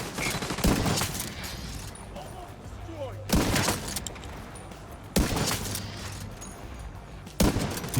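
Bursts of gunfire in The Division 2 erupt in three or four loud volleys spaced a couple of seconds apart, with quieter ambient game noise between them.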